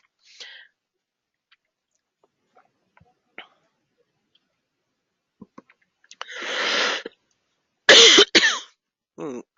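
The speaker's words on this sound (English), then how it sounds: "I'm going to cough" Near silence with faint clicks, then a breathy rasp and two sharp, loud coughs close to the microphone near the end.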